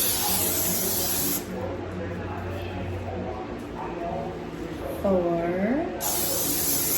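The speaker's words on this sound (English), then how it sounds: "I'll spray it and you layer it" Bursts of cooking spray hiss onto phyllo sheets while spanakopita is being layered, two loud sprays at either end with a pause between, and voices talking in the kitchen.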